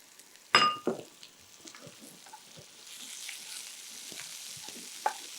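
Sprouted green gram and mixed vegetables stir-fried over high flame for vegetable semiya, a sharp metallic clink up front, then a soft steady sizzle with scattered spatula scrapes and taps.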